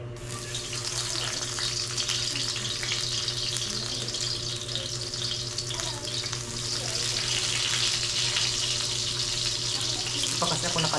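Food frying in a pan during home cooking, a steady loud hiss and crackle that runs the whole time like running water, close up with no clear talking.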